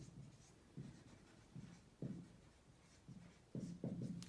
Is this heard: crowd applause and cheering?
no